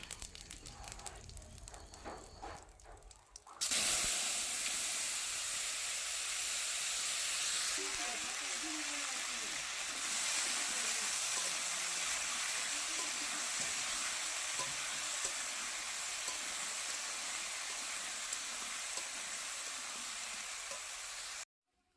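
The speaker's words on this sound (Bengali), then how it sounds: "কড়াইতে তেল দিয়ে জিরে ফোড়ন দিয়ে দিচ্ছি" After a few quiet seconds, cumin seeds and potatoes hit hot oil in a wok with a sudden loud burst of sizzling. A dense, steady hiss continues to the end.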